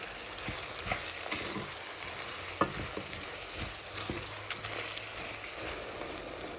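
Onions with salt cooking on high heat for a keema samosa filling, a close, steady frying sizzle broken by light stirring taps and scrapes, no speech.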